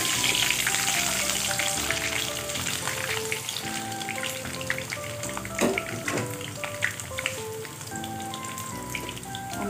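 Kikiam frying in a pan of hot oil, a steady close sizzle with bubbling crackle and a few clicks of utensils, with music playing throughout.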